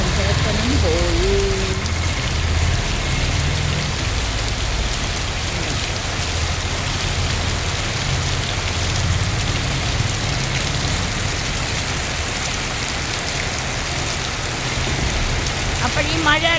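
Heavy rain pouring steadily on surfaces, a loud dense unbroken hiss with faint traffic passing on a road nearby.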